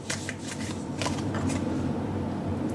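Tarot cards are shuffled by hand close up, a continuous papery riffling and sliding with sharper flicks scattered through.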